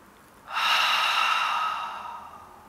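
A single long exhalation through the mouth during a seated chair yoga breathing exercise, a soft breathy rush that swells, holds for about two seconds, then slowly fades.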